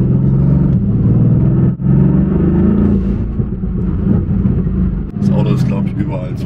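Turbo-modified Mercedes AMG GT R driving toward the Autobahn, a low engine rumble heard from inside the car, rising with acceleration, while people talk over it.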